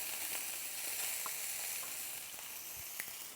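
Food sizzles steadily in a hot pan on a kitchen stove, a soft, even hiss with a few faint pops and clicks and no talking.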